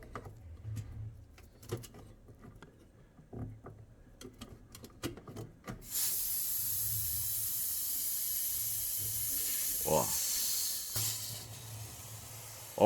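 Pressurized gas and oil escape from a cut suction tube on a frost-free refrigerator. A few sharp clicks and ticks come first, then a sudden loud, steady hiss bursts out and continues to the end.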